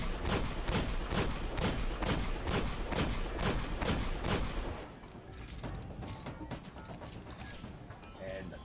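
Weapon with explosive rounds firing in the video game Destiny, a rapid, evenly spaced burst of about a dozen loud shots, then a quieter stretch of lingering game sounds.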